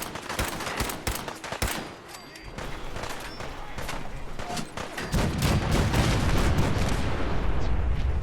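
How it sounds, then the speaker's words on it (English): Rapid volleys of cannon fire in a battle video game, dense overlapping booms and cracks building into a heavy continuous barrage, with voices speaking over the fighting. "The cannons are ready. Fire at will."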